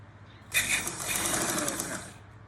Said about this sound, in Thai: เย็บเลยค่ะเย็บไปเลยนะคะ เย็บรอบ